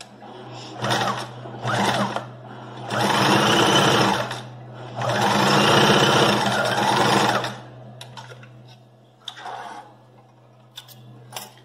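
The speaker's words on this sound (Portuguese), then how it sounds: "vamos passar uma costura reta aqui" Sewing machine running a straight seam on a fabric pocket: several close bursts of rapid stitching, short ones first, then two longer runs of a few seconds each, with a steady low hum beneath and light clicks in the pauses.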